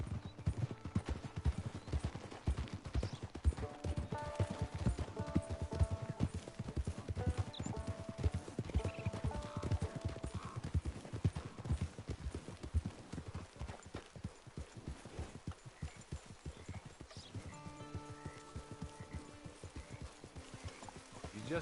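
Horse hooves clip-clopping at a steady rhythm in the Red Dead Redemption 2 video game, continuous under a music score with tonal melodic lines throughout.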